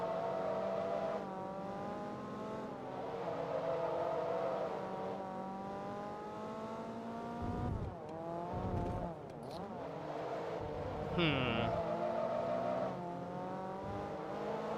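Mazda 2 racing in Forza Motorsport 2, engine droning and rising in pitch through repeated gear shifts, with a brief tire squeal and passing-car whooshes, loud and steady throughout.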